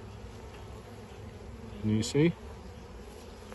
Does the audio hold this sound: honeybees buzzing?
yes